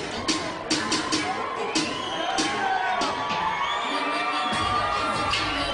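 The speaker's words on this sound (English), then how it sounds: "You hear the crowd eating it up." Crowd at a fight event roars and whoops as a fighter heads to the ring, loud continuous shouting with sharp bangs early on and commentators talking over it.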